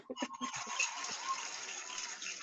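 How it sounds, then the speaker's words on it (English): A water sound effect plays during an online webinar, a continuous gushing, pouring rush like a running tap that follows a few brief voices and then fills the rest of the moment steadily at moderate volume. "Water."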